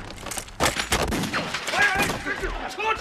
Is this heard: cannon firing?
yes